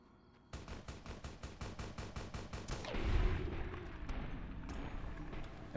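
Rapid bursts of automatic gunfire in Fallout: New Vegas, a fast regular string of sharp shots, then heavier booming blasts and scattered single shots, loud and close without talk.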